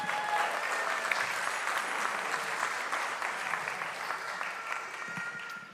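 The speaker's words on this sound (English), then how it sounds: "Give him another round of applause." Sustained applause from a Sunday service congregation, a dense steady clatter of clapping that holds evenly for several seconds and tapers slightly at the end.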